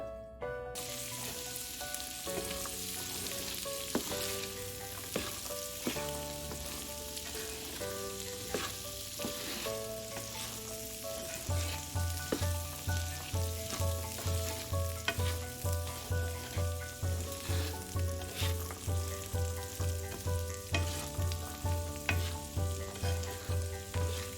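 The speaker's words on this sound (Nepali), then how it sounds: "सात 8 मिनट जति यसलाई भुट्दै" Steady sizzling of peas and potatoes frying in a pan for pickle, with occasional stirring scrapes, while music plays throughout and a rhythmic beat enters midway.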